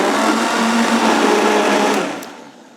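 A kitchen blender whirs loudly and steadily while blending a green smoothie of greens, then the motor winds down and cuts off near the end.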